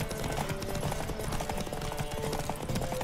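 Horse hooves gallop in The Witcher 3 in a steady, fast clip-clop rhythm, loud and continuous over wind and game ambience, with no talk.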